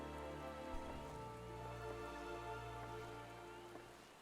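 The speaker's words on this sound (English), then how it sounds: "Now it's raining." Steady rain pours down in the video game Final Fantasy XIV, a continuous broadband hiss, with occasional louder drop splashes over a low hum of background tones.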